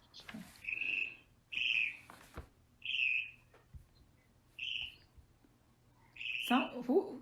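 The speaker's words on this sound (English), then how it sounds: "I can hear the birds chirping too." Short bird chirps repeat about every second or so, clear and fairly close, against a quiet background, with a rustling noise near the end.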